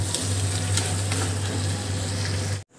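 Chicken sizzling and frying steadily in a hot pan during Bengali home cooking, a loud, continuous crackle with a low hum underneath, cutting off abruptly at the end.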